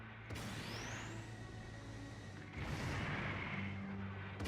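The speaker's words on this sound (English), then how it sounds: "these stupid gun cannons" Gun cannon artillery fire from the Gundam Side Stories video game: heavy booming blasts and rumbling mechanical noise fill the whole stretch, swelling louder partway through, with a rising whistle early on.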